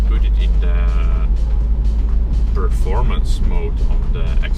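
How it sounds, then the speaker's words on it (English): Inside a Mercedes-AMG CLA45 S Shooting Brake in performance mode, artificial exhaust noise from the engine gives a deep, constant droning rumble with occasional pops, while someone talks over it. "you will start to hear some strange noises, like the car trying to be louder than it should be"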